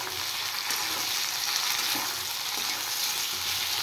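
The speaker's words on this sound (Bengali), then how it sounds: "আর একটু ফ্রাই করব।" Two large chopped tomatoes frying in a pan for a paneer curry base, giving a steady, close, loud hissing sizzle with a few faint stirring touches and no talking.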